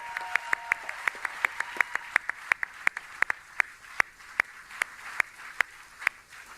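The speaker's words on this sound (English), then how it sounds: "Let's give all these workers one big round of applause one more time" Sparse clapping rings out in a large space for Ford factory workers at the Louisville plant, a few distinct sharp claps spaced irregularly over a thin crowd wash, fairly quiet overall.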